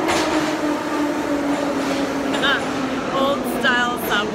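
An old Soviet-era subway train in Kiev running underground, a steady loud rumble and rattle of the cars with a constant hum, with a few faint voices briefly audible over the noise.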